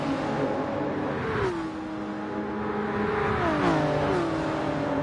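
Race cars in a Gran Turismo Sport GR.3 race at Spa, including a GT-R and a Supra, roar close by with rising engine whines and gear shifts, several engines overlapping in a loud, steady drone.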